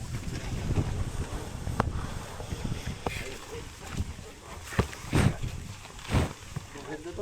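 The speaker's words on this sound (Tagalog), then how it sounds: "Malakas ang hangin." Strong wind buffeting an outdoor spot, a steady roaring rush with heavy low gusts and thumps against the microphone, continuous throughout.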